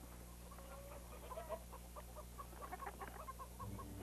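Chickens cluck softly in short, scattered bursts over a quiet, low background hum, faint and somewhat distant.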